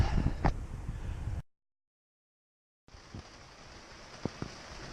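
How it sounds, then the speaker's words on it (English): Broadband hiss of rain with scattered patters, interrupted by a stretch of complete silence before the rain noise resumes. "And it's raining again"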